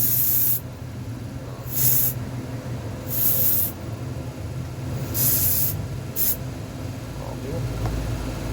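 Contact cleaner sprays onto the flasher relay of a 2012 Hyundai Starex in five sharp hissing bursts of varying length, separated by short pauses against a quieter background.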